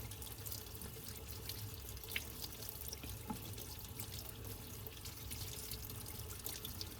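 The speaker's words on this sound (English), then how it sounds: "we're going to put it in the sink, run some water on it, get our sponge, and use the sponge in each one of the wells" Water runs steadily from a tap into a sink while a paint palette is washed with a sponge, a continuous close rushing splash with small faint knocks and no voices.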